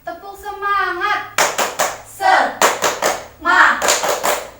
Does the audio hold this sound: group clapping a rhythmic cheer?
yes